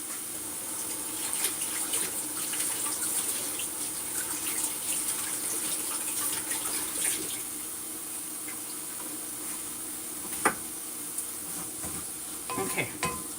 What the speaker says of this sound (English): I think I will wash my hands